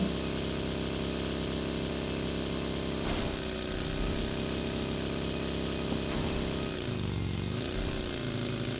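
An off-road buggy engine in the mobile shooter BGMI drones at a steady mid pitch, rising and dipping in revs a couple of times, loud and close with no talk.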